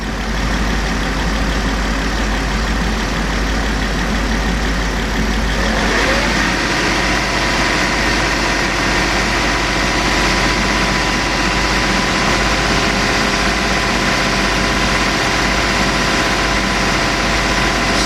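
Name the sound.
Lincoln LS car engine revving up from idle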